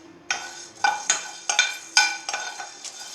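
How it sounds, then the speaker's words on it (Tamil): Coriander seeds dry-roasting in a pan for chicken masala powder, stirred in a series of sharp scraping, rattling strokes about every half second over a faint steady background, close and fairly loud, with no talking. "மல்லியை வறுத்துக்கிடுவோம்"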